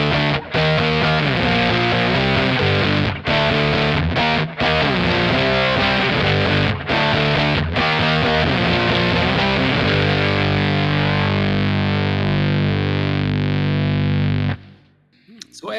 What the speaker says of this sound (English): This is the noise of the fuzz god.